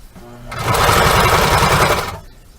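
A sewing machine runs a fast, even burst of stitching through cornhole bag fabric, a loud close whirring chatter lasting about a second and a half before stopping.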